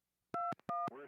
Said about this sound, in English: I called her phone.